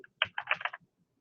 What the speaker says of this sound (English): Typing in my search, cloud security.